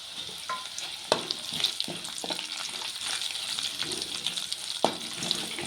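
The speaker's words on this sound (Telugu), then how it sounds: "ఇప్పుడు కొంచెం శనగపప్పు మినపప్పు వేసుకుంటున్నాను ఇది కొంచెం ఫ్రై అవ్వాలి" Chana dal and urad dal fry in hot oil in a pan for a brinjal and gongura chutney, a steady close sizzle broken by clinks and scrapes of stirring.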